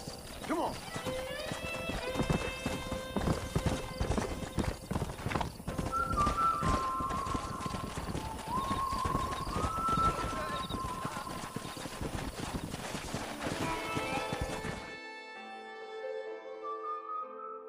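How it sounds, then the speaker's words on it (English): Hooves of horses in Red Dead Redemption clip-clop at a gallop, a fast steady rhythm under game music, with neighing and whinnying calls, fading out near the end while music carries on; voices talk over it. "We got some fine horses."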